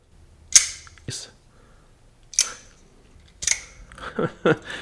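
Several sharp metallic clicks and snaps as a folding knife blade with a thumb hole is flicked open and closed, spaced apart, close and crisp.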